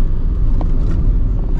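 A BYD Yuan Pro SUV takes a curve at high speed, giving a loud, steady low rumble of tyres and road noise close by with no one speaking.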